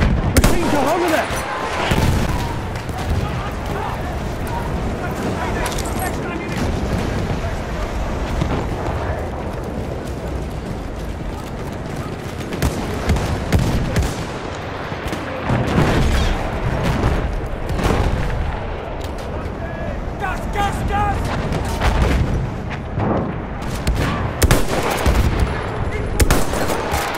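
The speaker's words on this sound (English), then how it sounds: "Take the objective. Machine gun over there." Machine gun fire and explosions in the Battlefield 1 video game during an Operations battle, sustained loud automatic bursts and booms mixed with in-game voices for nearly half a minute.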